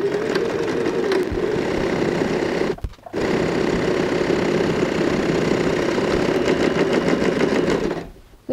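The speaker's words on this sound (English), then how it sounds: "Now I go ahead and sew a stitch on either side, starting and finishing with a back stitch" Loud, close sewing machine stitching the side seams of a curtain-fabric tote bag, with back stitches at start and finish; a long steady run broken by one short pause, then stopping at the end.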